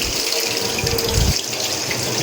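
Ingredients being washed under a running kitchen tap, a loud continuous gush of water splashing into a sink, close by and without speech.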